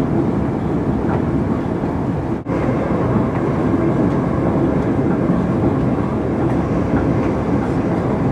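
Loud, continuous rumble of a train rolling along rails, with a steady clatter and one brief dip midway, no talking.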